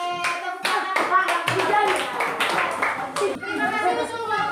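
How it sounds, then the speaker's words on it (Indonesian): A school class claps hands in a series of sharp, uneven bursts, close and fairly loud, with children's voices and chatter mixed in between the claps. "Oke, tepuk tangan."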